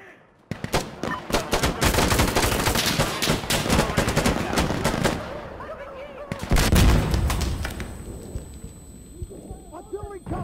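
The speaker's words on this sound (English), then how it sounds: "Artillery coming." Artillery fire in Insurgency Sandstorm: dense, loud rolling barrage of blasts and rapid impacts lasting most of the stretch, briefly easing before another heavy wave, with faint voices between.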